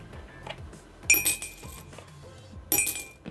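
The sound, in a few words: coin dropped into a glass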